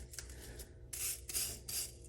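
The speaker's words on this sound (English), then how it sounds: "We got a wire brush here, so maybe we can scuff it out here real quick." A wire brush scrubs rust off a vintage pipe wrench in a few short, faint, scratchy bursts, heard close up with no talking.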